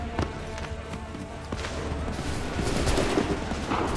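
Gunfire in Assassin's Creed 3, a volley of sharp shots and booms cracking over a dense, rumbling battle din that swells toward the end.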